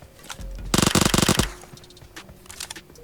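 A rapid burst of automatic gunfire in a shooter video game rattles off about a dozen quick shots, followed by quieter scattered game sounds and a few distant pops.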